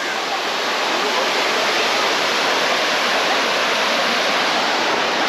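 River water rushing below a dam in Mindanao, a loud, dense, unbroken roar of flowing water close by, steady throughout without pause.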